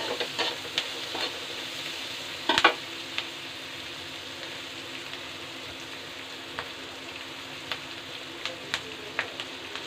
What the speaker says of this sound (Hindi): इसको सब्जी को भूनते हुए 1 मिनट पकाएंगे